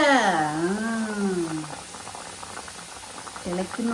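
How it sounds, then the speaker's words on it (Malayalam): A pot of coconut fish curry boils with a steady bubbling, crackling simmer, close by; a voice speaks briefly at the start and again near the end. "ജസ്റ്റ് ഒന്ന് ഇതിന് നന്നായി തിളക്കട്ടെ. തിളന്ന് തിളക്കുന്ന കണ്ട"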